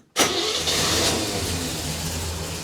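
The 327 Chev V8 in an HQ Holden, ignition timing not yet set, catches after near silence and settles into a loud, rough, steady idle with a lumpy, uneven rumble close by.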